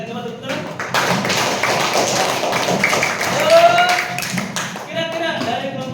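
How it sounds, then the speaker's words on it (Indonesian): Group applause in a school classroom, a steady clapping wash running throughout as students cheer presenting groups, with voices talking over it. "tepuk tangan lagi untuk masing-masing kelompok yang sudah mempresentasikan. Coba tepuk tangan."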